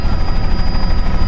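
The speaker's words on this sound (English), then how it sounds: "ask the pilot if he can swing the helicopter around" A helicopter flies over a burning chemical factory in Durban, its rotor chop loud and continuous throughout, close and steady with no talk.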